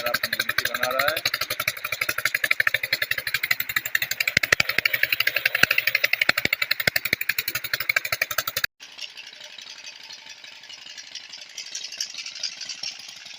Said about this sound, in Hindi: ट्यूबवेल चल रहा है